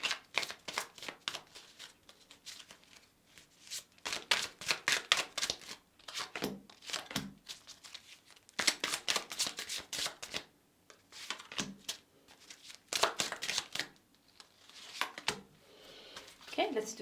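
Tarot cards being shuffled by hand, repeated crisp riffling and flicking bursts in irregular clusters, quiet and close, with a voice talking in between.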